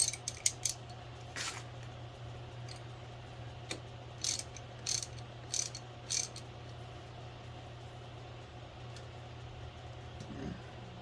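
Ratchet wrench clicking during electric starter installation on a Suzuki LT125 ATV, heard as several short bursts of rapid clicks spread through the clip over a steady low mechanical hum.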